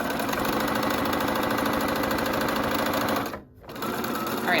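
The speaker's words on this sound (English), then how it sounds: "now I'm sewing the right side of the dress" Sewing machine running steadily while stitching the side of a McCall's 8358 wrap dress, a close, continuous whirring hum that cuts off briefly near the end, then starts again.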